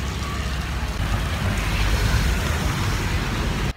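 Rain comes down in Guatemala as a loud, dense hiss mixed with low rumbling street noise, steady and close for a few seconds before cutting off abruptly.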